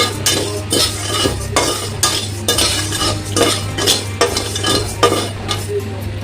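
Dry Gobindobhog rice being stirred in an empty wok, a rhythmic scraping and rattling of grains against metal with regular utensil strokes and a steady low hum beneath.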